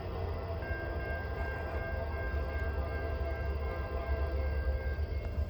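Norfolk Southern freight train 240 rolls northbound in a steady, close rumble of wheels and railcars, with a sustained tonal hum or horn-like drone running through the middle, loud and continuous with no talking.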